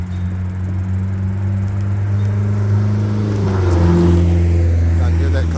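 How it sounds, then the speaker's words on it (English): A car passes by outside a train yard, its steady low engine drone swelling louder toward the middle and end, with a hint of rising revs as it draws nearest. "I can hear that car just fine."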